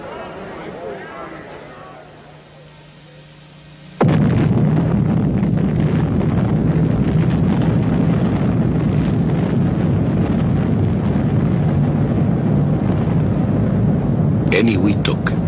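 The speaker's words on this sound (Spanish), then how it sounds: "La prueba de la primera bomba de hidrógeno." First hydrogen bomb test at Eniwetok in 1952: quiet wind-like rumble gives way to a sudden loud blast that becomes a sustained roaring, turbulent rush, with talk over it.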